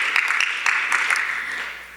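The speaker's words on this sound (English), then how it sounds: "Let's give another round of applause" An audience at a youth showcase event applauds with dense, steady clapping that fills the space and fades slightly over two seconds.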